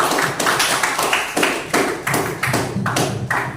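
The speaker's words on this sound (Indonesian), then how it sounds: "Kasih tepuk tangan." A small audience in a teaching session claps together, a dense run of hand claps with rhythmic pulses, fairly close and loud, with no talking over it.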